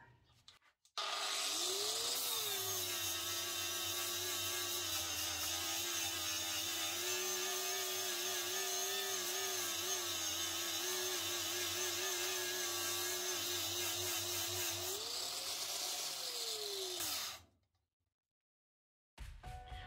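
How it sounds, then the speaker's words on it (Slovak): A ProCraft electric angle grinder runs under load in a long, steady, loud whine that dips slightly in pitch as pressure is applied, then winds down and cuts out near the end. "Keďže je to elektrická flexa, je to cítiť, že má silu a aj pri takom väčšom prítlaku to nejak nezastavuje, neobmedzuje pri brúsení"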